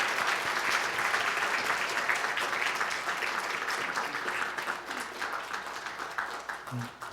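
Congregation applause at a Korean church Sunday service, a sustained burst of many hands clapping that gradually thins out near the end.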